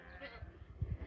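Goats bleating indoors after being brought in from the rain, a couple of soft, short bleats close by, faint overall.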